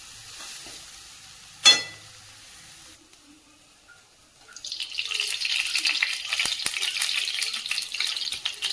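Stuffed flour dough laid on a hot griddle: a sharp clatter, then near quiet, then a bright, even sizzle that rises and holds steady up close.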